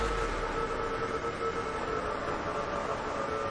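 Ambush creature sound from the Roblox Doors game, slowed by 40%: a steady, dense whooshing roar with a faint tonal hum running through it, continuous and unbroken, with no voices.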